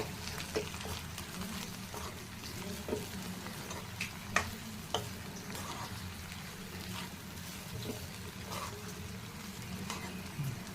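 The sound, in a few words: stirring aloo thotakura fry after adding roasted gram powder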